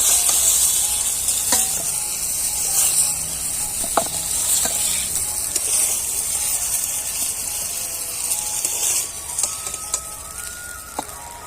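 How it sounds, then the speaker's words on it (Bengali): Eggplant slices fry in a pan of hot oil, a steady bright sizzling hiss broken by occasional clicks and scrapes from turning the slices, close and continuous without talk. "বেগুন ভাজা হয়ে গেছে"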